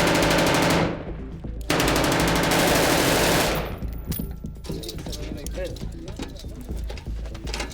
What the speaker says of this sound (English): they're laying down suppressing fire against snipers